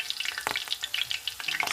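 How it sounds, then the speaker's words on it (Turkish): Parsley frying in hot oil for an eggplant meze gives a steady close sizzle with rapid crackles and spits throughout, and no voices. "Ya Koray, maydanoz kızartılır mı?"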